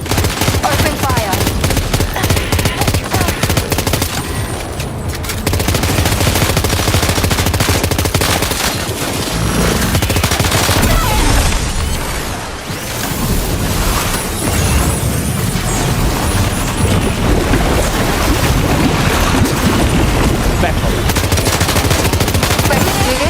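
Sustained machine gun fire in Death Stranding 2: On the Beach, loud and dense rapid bursts that continue almost without pause, with a few heavier booms mixed in.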